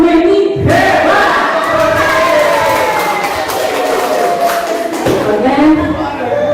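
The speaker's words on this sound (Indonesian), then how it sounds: "tepuk hebat untuk Bu Meni" A school audience at SMAN 1 Warungkiara chants and claps in unison in the tepuk hebat cheer, loud and rhythmic, with voices calling out together over the clapping.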